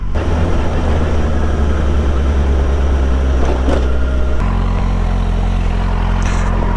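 A 2007 Yamaha FZ6 Fazer 600 four-cylinder motorcycle is ridden, its engine droning loud and steady with a shift in pitch midway, wind and road noise mixed in.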